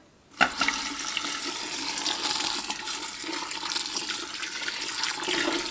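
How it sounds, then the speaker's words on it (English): Water pours in a steady, rushing stream into a pot of rose hips, starting abruptly and continuing close and loud throughout with no talk. "I'm gonna add the water."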